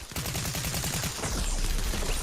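Rapid bursts of gunfire from a sniper and other weapons in the video game Fortnite, dense repeated shots over a loud, busy background.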